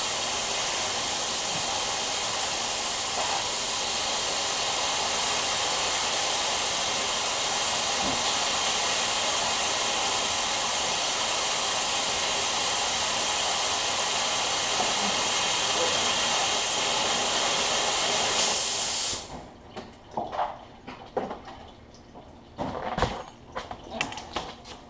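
An Astro Pneumatic 78585 air-powered tool gives a loud, steady broadband hiss of rushing air that runs for about nineteen seconds and then cuts off abruptly, leaving quiet room sound with a few small knocks.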